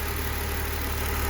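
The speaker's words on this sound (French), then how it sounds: "Le moteur tourne bien" A BMW E46 engine converted to run on E85 ethanol idles steadily with a low, even rumble and constant hum, close by, with no speech and no change in pace.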